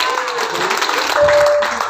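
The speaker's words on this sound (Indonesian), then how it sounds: "Jadi sekali lagi tepuk tangan buat Diamond Interest" Loud crowd applause at a company's 19th anniversary event in a hotel in North Sumatra, a dense steady wash of clapping heard up close for a couple of seconds.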